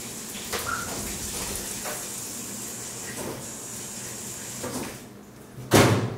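Water running or splashing within a song, a steady hiss under the music with a louder gush near the end.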